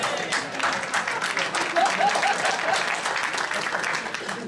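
At a classic jazz festival, a hall audience claps steadily in a broad, continuous wash, fairly loud and sustained throughout, with faint voices mixed beneath.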